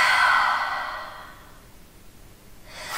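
A deep belly breath during a yoga stretch, a loud, close airy exhale that fades out, followed by the start of a fresh inhale.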